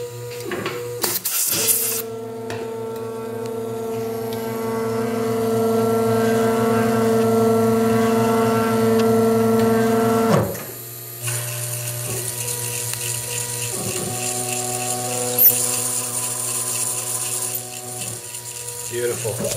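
A knifemaking machine spins slowly while cutting a knife blade, giving off a steady motor whine with layered mechanical tones that holds for about ten seconds, then drops to a lighter, uneven running hum with small clicks.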